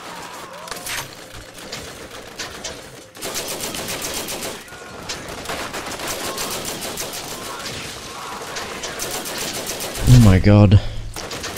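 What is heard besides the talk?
gunfire in video game Borderlands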